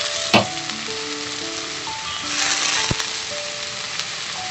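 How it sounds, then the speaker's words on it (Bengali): Chopped onion and carrot frying together in white oil: a close, continuous sizzle that swells slightly midway, with a sharp clink of the utensil near the start and soft stirring noises, no talk. "সাদা তেলে রান্না করছি। এবার আমি পেঁয়াজ কুচিটা এর মধ্যে দিয়ে দেবো, আর দেবো এই গাজর কুচিটা।"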